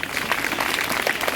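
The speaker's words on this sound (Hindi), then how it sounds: "जोरदार तालियां" Quick burst of audience clapping at a school Independence Day celebration, brisk and lively throughout.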